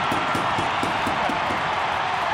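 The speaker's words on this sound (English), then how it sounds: "The crowd has gone nuts." Rugby league stadium crowd roaring at a Penrith match, a loud continuous wash of massed voices with scattered claps throughout.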